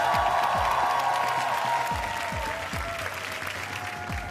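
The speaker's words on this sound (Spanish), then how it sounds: "Y al gran Vicente, el aplauso para este muchacho." Audience at a Got Talent Chile 2024 quarterfinal applauding a young performer, steady dense clapping from a large crowd in a studio hall, sustained across the whole stretch while low sounds sweep underneath.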